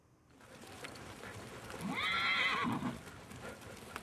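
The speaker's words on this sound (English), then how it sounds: "riding horses across the plains of Mongolia, just like Genghis Khan" A horse on the plains of Mongolia whinnies loudly, a rising and falling neigh in the middle, with faint hoof clops and outdoor rumble around it.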